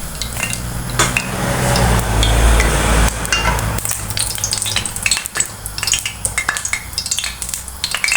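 Steady sizzling and crackling from oil heating in a frying pan for potato-spinach curry, with occasional sharp metallic clinks of a utensil against cookware.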